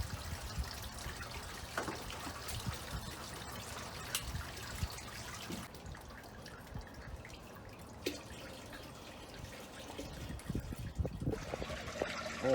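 Water from a pump running through a hose into a newly built backyard pond, heard as a faint, steady trickle and dripping with small irregular splashes.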